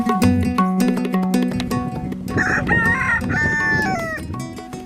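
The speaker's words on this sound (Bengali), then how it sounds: "গলা ছেড়ে মোরগের ডাক" A rooster crows loudly and close by in a flooded village beside the Chalan Beel wetland in Natore, with clucking fowl and other birds around it.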